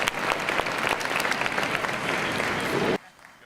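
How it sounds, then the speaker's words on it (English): Audience applause for longtime supporters at the MEC Power Play 2016 Star Students and Star Teachers event, a loud, dense wash of clapping that holds steady for about three seconds, then cuts off sharply to quiet room noise. "Let's give them a round of applause."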